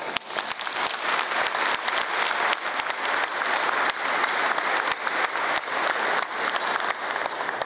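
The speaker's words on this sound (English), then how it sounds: "Please give them a round of applause" Air Force change-of-command ceremony audience at Al Udeid applauding in a steady, dense, sustained wash of clapping that stays loud and even throughout, with no voices standing out.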